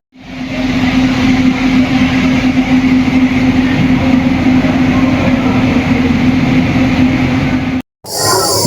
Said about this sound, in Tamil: இங்கே நம்ம வண்டி ஃபைனலாக ஆன் டைமில் உள்ளே வந்து சேர்ந்துச்சுங்க